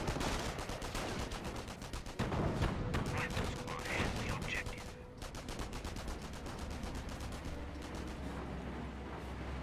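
MP40 submachine gun fire in Company of Heroes, long rapid bursts of clattering shots, loud and dense, with a caster talking faintly underneath.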